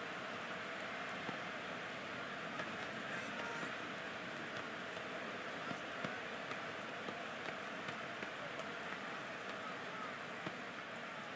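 Rain falls on a football field in Madden 25 as a constant, even hiss at moderate level, with faint crowd ambience and small ticks scattered through it.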